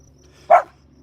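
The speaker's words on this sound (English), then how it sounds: "That little dog." A small dog gives one sharp bark, clear and fairly close, against a quiet background.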